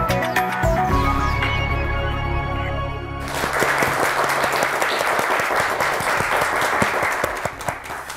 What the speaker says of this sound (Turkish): Şimdi hak ettiğiniz alkışı bir duyun.